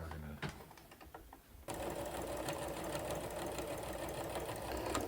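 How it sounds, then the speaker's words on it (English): Sewing machine stitching pockets on a kite made with bamboo rods, a few short bursts of stitching followed by a steady close mechanical whir. "we want this to be well stitched, so maybe 2 or 3 passes"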